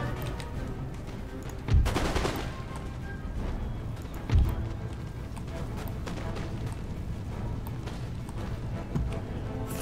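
Musket volleys and artillery fire in an Empire Total War battle: two heavy bursts stand out early on, over a continuous crackling battle din.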